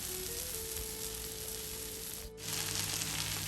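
Chicken malai boti skewers sizzling over a high flame on a griddle, a steady, close, continuous frying hiss that briefly dips in the middle and then returns, with no talking.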